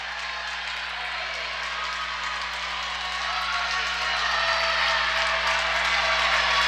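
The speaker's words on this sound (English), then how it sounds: "A nice round of applause from the house here for Grayson Rambo" Spectators at a youth swim meet at a state championship applaud in a steady, even patter of clapping that swells slightly, with a low electrical hum underneath.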